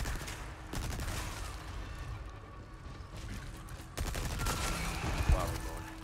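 Gunshots in the video game Resident Evil 4 Remake, a few sharp reports scattered through a busy background of game noise and rumble, with one crisp shot near the end.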